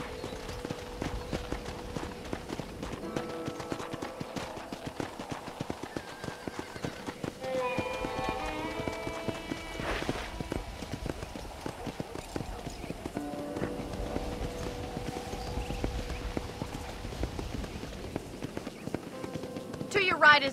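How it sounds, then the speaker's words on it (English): Horse hooves clip-clopping at a steady riding gait across a ranch in Red Dead Redemption, a continuous rhythmic patter under a voice talking throughout. "let's see if you can still ride a horse"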